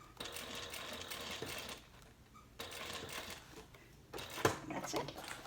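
A sewing machine topstitches the bottom band of a fabric handbag in several short runs separated by brief pauses, the motor rattling softly, with a sharper click or two near the end.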